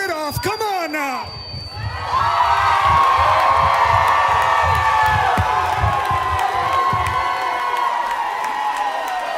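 After a few sharp whoops, a graduation audience for Rhodes College and Career Academy erupts into sustained loud cheering and shouting that fills a large hall for several seconds, then slowly eases.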